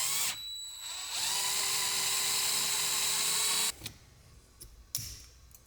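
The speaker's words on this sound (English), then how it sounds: "I'm gonna continue drilling so it's just one uniform hole." A power drill bores out a hole on an E46 drift wagon, whining loudly and steadily for about three seconds before stopping, followed by a few short clicks and knocks.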